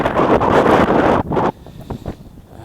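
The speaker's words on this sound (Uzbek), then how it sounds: "bugun shamol." Strong wind buffets the microphone with a loud roaring rush that drops off abruptly, leaving a softer gusty hiss with scattered knocks.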